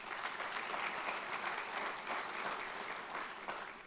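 Applause fills the room at an alumni awards celebration, a dense, even patter of many hands heard from some distance, fading slightly at the close.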